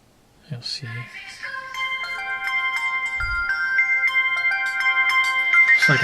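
An LG G2 smartphone plays its incoming-call ringtone, a bright melodic electronic tune that rises in loudness and repeats steadily, with a brief voice and handling noise at the start.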